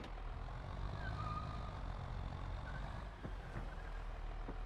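Tractor engine in Farming Simulator 22, a low steady drone running faintly and continuously while the machine pushes material around the yard, with a few soft clunks.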